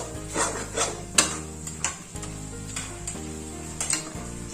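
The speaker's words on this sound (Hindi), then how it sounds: "फिर से हम इसको भूनेंगे तकरीबन कुछ सेकंड्स के लिए, जिससे कि इसके मसाले भी अच्छे से पक जाएं" Jackfruit curry with spices being roasted in a pan, a steady sizzle broken by repeated scraping and tapping strokes of a spoon against the pan, close and moderately loud with no talking.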